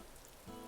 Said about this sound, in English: it's such a dark, rainy night